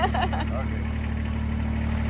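A Kubota tractor engine starts and idles steadily with a low rumbling hum, while people talk briefly over it at the start.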